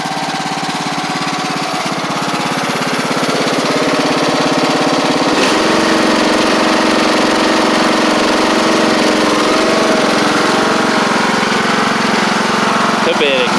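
Craftsman LT1000 lawn tractor with a Briggs Intek engine runs at a steady loud drone close by, its pitch shifting partway through, with faint occasional irregular pops from a slight backfire.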